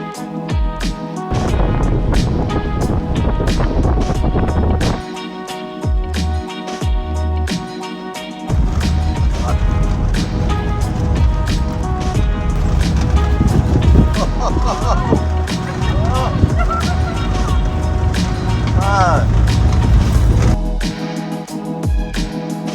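Songthaew truck grinding up a steep, narrow, bumpy road north of Lampang, Thailand, with a loud continuous engine drone, rattling and wind buffeting throughout, occasional voices faintly under the noise.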